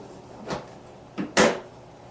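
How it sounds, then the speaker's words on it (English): A plastic filter door on a water ionizer is refitted and shut, with a light scrape, a soft knock, then a sharper snap as it closes, close up and with no talking. "reinstall the filter door."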